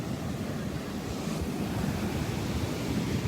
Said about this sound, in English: I'm sharing a little bit of ocean.